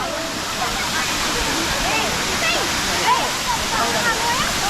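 A waterfall in Cambodia roars as a loud, constant broadband rush of falling water, close and steady throughout, with people talking faintly beneath it.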